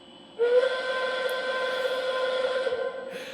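A sustained steam whistle blast from an MTH model Shay steam locomotive, starting abruptly and holding a steady tone for over two seconds before tapering off, over a soft background hiss.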